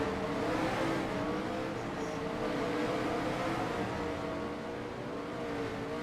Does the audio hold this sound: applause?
no